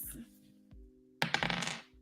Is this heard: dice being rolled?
yes